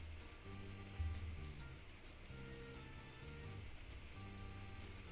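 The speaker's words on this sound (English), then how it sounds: "Sorry if that rain in the background's loud" Real rain falling outside while Two Point Hospital is played, a steady soft patter under tonal game music with sustained notes, constant and moderately quiet.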